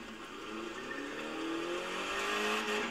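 Mini Cooper S engine revving hard and climbing steadily in pitch as it accelerates at high speed in the racing game The Crew 2, loud and continuous with no talking.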